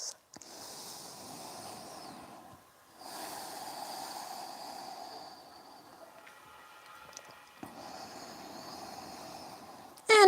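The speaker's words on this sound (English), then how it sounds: "Take long, deep breaths." Slow, deep breathing in a yoga class, with long airy inhales and exhales close by and quiet gaps between breaths, and no talking.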